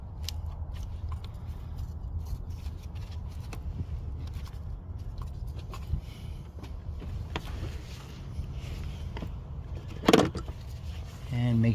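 A new VVT solenoid seats into the Ecotec 2.2 engine of a 2009 Chevy Cobalt with one sharp, close click near the end, after soft handling and rustling noises.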